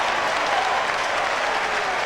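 A college football stadium crowd cheering and applauding a running play, a dense, loud, continuous roar of clapping and voices with no talk standing out.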